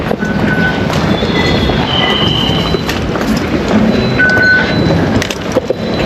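A train pulls into a station with a loud, close rumble of wheels on rails, thin metallic squeals from the wheels, and faint clicking over a continuous roar.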